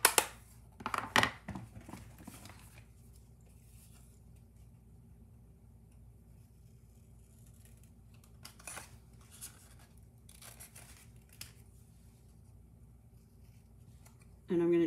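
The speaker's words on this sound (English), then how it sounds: "I'm just going to go ahead and cut out" Scissors snip through stamped cardstock in a few quick crisp cuts near the start, then faint scattered snips and handling over a quiet room hum.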